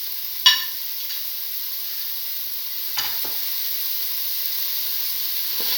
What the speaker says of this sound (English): Saute and mix the bottle red chilli,